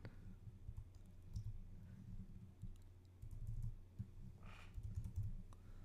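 Soft, steady keyboard clicks patter through the full stretch, quiet and close, with short bursts of faster keystrokes and no voices.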